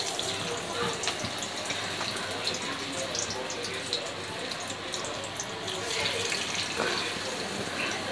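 Marinated Chicken 65 pieces frying in oil in a kadai, a continuous hissing sizzle that swells slightly toward the end, fairly loud and steady.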